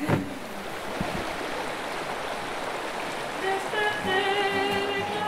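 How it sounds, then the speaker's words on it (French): A waterfall pours in a steady, dense roar throughout, close and constant, with a voice and faint tonal sounds briefly rising over it toward the end. "J'ai envie d'aller sous la cascade."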